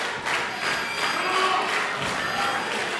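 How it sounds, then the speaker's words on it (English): Steady broadband applause from an arena crowd at a wrestling event fills the whole span, continuous and fairly loud with a low rumble of crowd noise beneath it and no speech. "Why are all these people clapping?"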